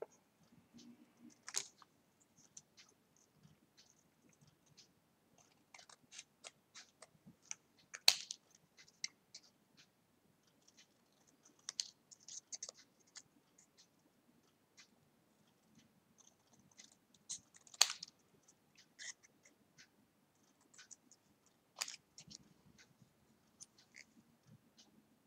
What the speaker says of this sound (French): Je vais couper deux petites images. Couper ces deux-là.